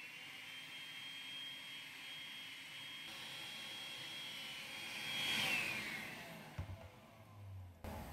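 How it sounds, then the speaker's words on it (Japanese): A vacuum cleaner sucks dust off the filter of a 100V standard electric ventilation fan. It makes a steady, airy whooshing drone that swells briefly partway through, then ends with a few soft knocks. "掃除機で表面のホコリを取ったんですけども"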